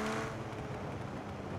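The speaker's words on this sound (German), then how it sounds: "Deshalb halt die HKS-Variante mit dem lachenden Turbo. Und ja, er lacht hier so ein bisschen." Turbo whoosh and flutter from an HKS turbo on a car in Forza Horizon 4, a steady loud engine drone running throughout with no gaps.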